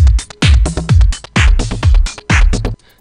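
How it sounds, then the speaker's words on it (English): A drum loop clip pitch-transposed in Ableton Live's envelope editor: loud, punchy kick and snare hits in a quick repeating pattern with short gaps, stopping abruptly near the end. "So the transpose will pitch up or de-pitch"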